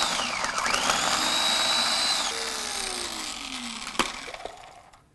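Fried onions blitzed in a kitchen blender for Burmese coconut chicken noodles, a steady high whirring grind for about two seconds that drops to a lower spinning tone, then a sharp knock as it stops and winds down.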